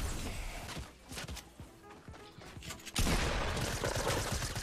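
Gunfire in a sniper-focused shooter video game: scattered shots and impacts over a busy game soundscape, growing into a louder, denser burst of firing in the second half.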